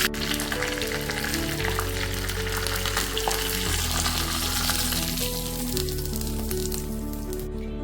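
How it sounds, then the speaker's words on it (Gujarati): Mustard seeds, curry leaves, sesame seeds and dried red chilies sizzle and crackle steadily in hot oil for a Gujarati chana dal tempering, loud and close, with a constant frying hiss and no talking. "લાલ સૂકા મરચાં આપણે એડ કરશું થોડી રાઈ લીધી છે રાઈ એડ કરી છે અને મીઠા લીમડાના પાન એડ કર્યા છે"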